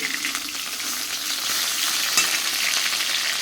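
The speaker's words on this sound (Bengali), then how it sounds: "এখানে ইলিশ মাছের মাথা ভাজা বসিয়ে দিয়েছি" Steady, close sizzling and crackling of a hilsa fish head frying in a hot pan, a continuous bright hiss with small pops throughout.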